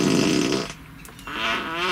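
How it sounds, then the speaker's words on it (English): Tesla Model Y's built-in fart-on-demand novelty sound effect: a loud, two-second raspy blast that dips briefly in the middle, then returns as a buzzy, fluttering tail, with no talking. "Fart on demand."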